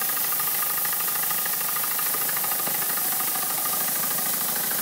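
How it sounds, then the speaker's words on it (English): A homemade steam engine fed by a kettle boiler runs at full steam, giving off a loud, constant hiss with a fast mechanical knocking underneath, close and steady throughout with no talking. "Once it gets to full steam, there it goes."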